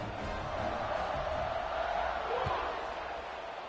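A stadium crowd in a PS5 American football game roars steadily before a kickoff, a dense, loud wash of cheering that swells slightly midway.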